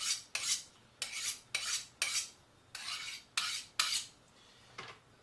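A sharp knife slices a carrot on a cutting board for a vegetable ramen soup, seven or eight crisp, separate cuts at a steady rhythm, close and clear, with quiet gaps between strokes and no talking.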